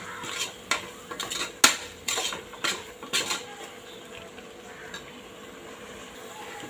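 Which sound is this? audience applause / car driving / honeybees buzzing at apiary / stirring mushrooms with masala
stirring mushrooms with masala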